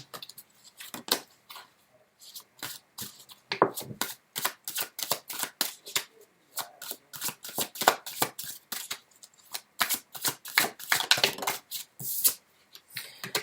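Tarot cards are shuffled by hand in a quiet room, a fast sequence of crisp riffling bursts and flicks that comes in uneven clusters, close and fairly soft.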